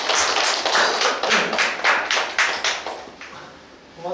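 An audience at a lecture on local food and food planning claps in a burst of applause, a series of loud, close hand claps that fade out toward the end.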